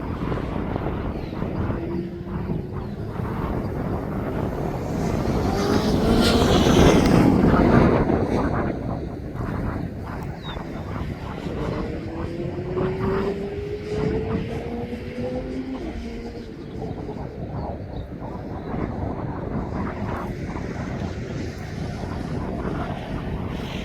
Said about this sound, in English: It's a 23-year-old aircraft.